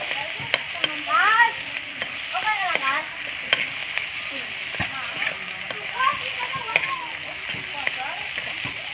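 Onion and tomato fry in a pan with a steady, bright sizzle and spatter that runs throughout, while a voice talks over the cooking.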